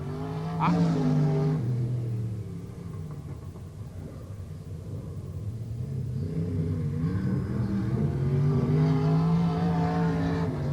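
Race cars lap Putnam County Speedway during a 1992 S.T.A.R.S. Racing Series heat, engines droning and rising and falling in pitch as they run around the track, with a broadcast commentator talking over the steady rumble.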